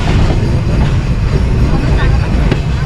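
A passenger train runs on rails between Phulbari and Joypurhat in Bangladesh, giving a steady, loud, close rumble with a dense low roar that holds evenly throughout.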